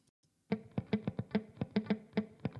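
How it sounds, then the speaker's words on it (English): Dry, rhythmic percussive tones start after a brief silence, each hit short and crisp with little lingering tail. "And without the delay and the verb."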